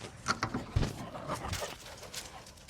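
Dogs scramble and trample over each other nearby, giving a busy scuffle of paws and thumps with a brief whimper and panting mixed into steady background noise.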